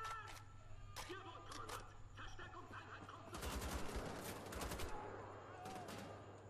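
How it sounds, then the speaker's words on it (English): Bursts of gunfire from Wolfenstein: The Old Blood, with clusters of rapid shots and single cracks spread across the clip, loudest in a dense volley midway, over a low steady game hum. "Someone's shooting me from somewhere."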